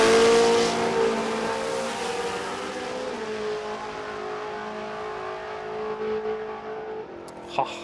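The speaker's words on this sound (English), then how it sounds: "We want to hear the pipes. We want to hear the motors." Race cars at a Kenda 660 Radial Series Saturday racing event rev and accelerate, a loud continuous engine roar with rising and falling pitch that dominates throughout, easing slightly toward the end.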